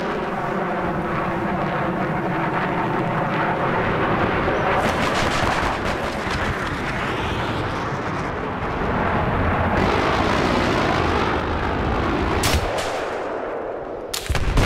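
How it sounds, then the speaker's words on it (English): Helicopters fly in during a Battlefield 3 game, a dense mechanical roar mixed with continuous gunfire and blasts that fill the whole stretch at high loudness. "Choppers coming in from the mountainside."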